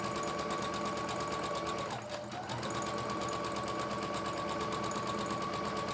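A sewing machine stitches a quick straight back seam in muslin, a loud continuous close-up whirring hum with a brief dip partway through before it runs on steadily.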